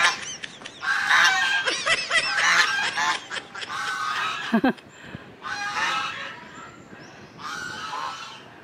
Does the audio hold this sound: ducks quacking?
yes